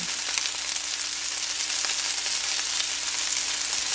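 Onions frying in a soup pot for turkey soup, a steady close sizzle with fine crackling and no talk throughout.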